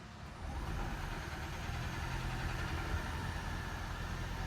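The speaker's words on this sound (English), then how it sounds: "So now the engine is running." A 2012 Ford Fusion hybrid's gasoline engine kicks in after a quiet start and settles into a steady, soft idle hum.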